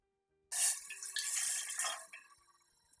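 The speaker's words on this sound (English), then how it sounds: "Now pour 1 tumbler of milk." A tumbler of milk is poured into a vessel on the stove, a sudden close liquid stream that splashes and gurgles for about a second and a half, then trails off into drips.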